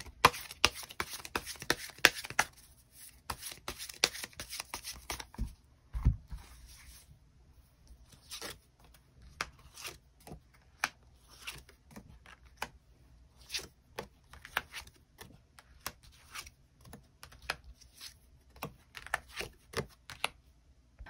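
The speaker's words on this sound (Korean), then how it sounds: "추가 카드 뽑아보도록 하겠습니다" Tarot cards are shuffled and drawn, with a dense run of crisp riffling flicks at first, then scattered soft slaps and snaps as cards are handled and laid down. The sounds are close and quiet, with no talking.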